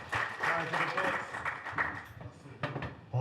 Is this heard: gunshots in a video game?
no